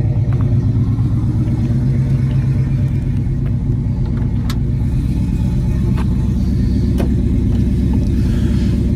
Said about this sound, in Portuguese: O gló gló gló do 273 é bem bonito, né?